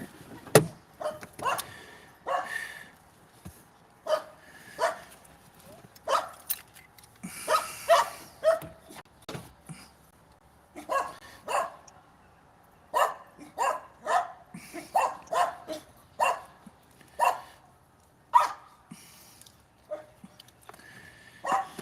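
A dog named Loki barks repeatedly in short, sharp bursts, a few yips and whimpers mixed in, fairly close and loud with irregular pauses between volleys, no talking over it.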